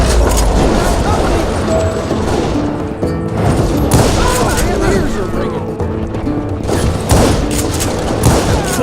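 Rapid bursts of gunfire in the Western shooter game Call of Juarez, loud and dense with overlapping shots and booms over several seconds as a firefight rages around the player.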